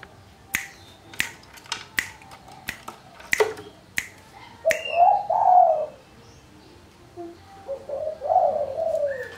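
A pet spotted dove makes soft, low coos in two short bouts, following a run of sharp snapping or tapping sounds. Everything is quiet and close, with no one speaking.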